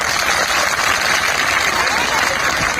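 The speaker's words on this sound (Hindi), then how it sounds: "इनके लिए एक बार और जोरदार ताली बजाइए।" An audience claps continuously and loudly at a public Birsa Munda 149th birth anniversary event in Manpur, a dense, steady wash of applause across the whole stretch with crowd voices mixed in.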